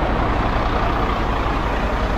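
A new semi truck engine runs steadily with the PTO engaged, a loud, continuous low rumble at constant pitch with no pauses.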